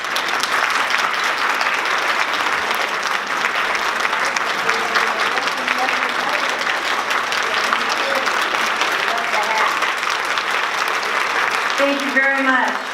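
A large audience applauds steadily for a captain, dense clapping holding at full volume throughout, with a voice briefly speaking over the tail end.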